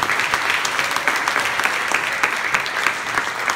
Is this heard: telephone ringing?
no